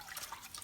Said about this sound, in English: I'm going to take the sponge and soapy water, simply wash it out